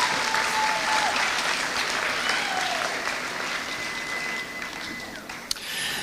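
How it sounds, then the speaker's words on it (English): A large audience at the 2024 Hernando DeSoto Investiture and Coronation Ball applauds its sponsors, a dense, steady clapping that holds for several seconds and thins slightly toward the end, with no voices over it. "Would you please give them a round of applause?"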